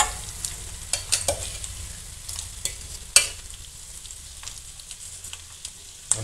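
Sabudana and crushed peanut mixture stirred into fried potatoes in a pan, with repeated scraping and clinking strokes over a quiet low sizzle, close and fairly soft, no talking.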